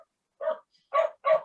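A rescue dachshund barks three times, a single yap followed by two quick close barks, loud and alone against silence.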